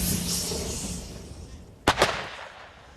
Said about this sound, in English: We went with Ukraine's army to see artillery already firing on Russian forces